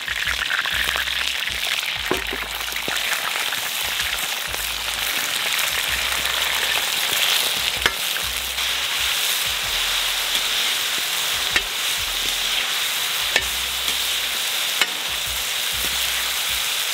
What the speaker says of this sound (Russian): Мясо жарится